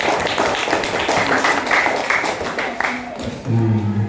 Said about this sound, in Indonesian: Ya, tepuk tangan kelompok 1.